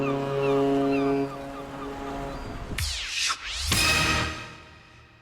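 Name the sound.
distant ship horn with ocean waves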